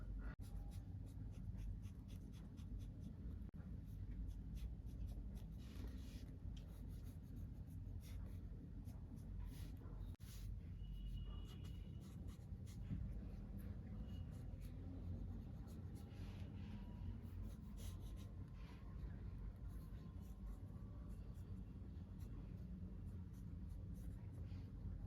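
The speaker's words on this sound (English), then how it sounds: "right now I am drawing with ink." Ink pen scratching steadily across sketchbook paper, close and continuous with a soft low rumble of room noise underneath, no talking.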